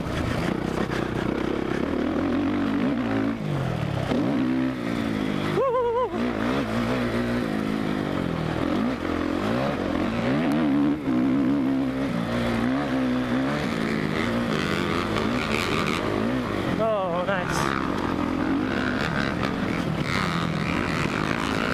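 Suzuki motocross motorcycle ripping around a dirt track at Deseret Peak in Tooele, Utah, its engine loud and close throughout, revving up and down through gears with sharp throttle changes over braking bumps and tight corners.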